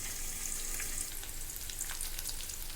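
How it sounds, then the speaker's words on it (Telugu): Onion, green chili, curry leaves and mustard seeds frying in oil, a steady, bright hissing sizzle with faint crackling pops running evenly throughout. "మంచిగా నూనెలో వేగనిద్దాం. ఉల్లిపాయ, పచ్చిమిర్చి, కరివేపాకు, ఆవాలు,"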